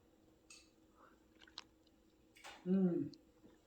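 Someone eats homemade soup cooked on a wood stove, giving a few soft spoon clicks and a short, close slurp and chew.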